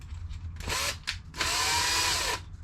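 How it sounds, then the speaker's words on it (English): A power drill boring a pilot hole runs in two bursts, a short whine followed by a longer steady run, loud and close with no talking. "Drilling time. Give it a little pilot drill first."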